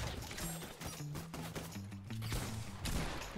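Gunfire in Fortnite: a rapid string of sharp, fairly faint shots crackling in quick succession, with a few heavier hits, set against a steady low tonal game backdrop.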